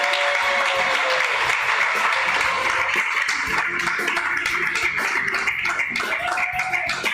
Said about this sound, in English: You could applaud Stephanie.